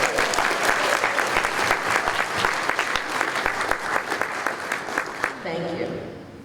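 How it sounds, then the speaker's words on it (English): Audience applause fills a meeting room at a peacemaking dialogue session, dense steady clapping that carries on for about five seconds before fading out, with a voice starting to speak at the very end. "we give them one more round of applause."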